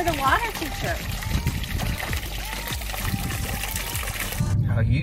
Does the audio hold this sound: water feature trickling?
yes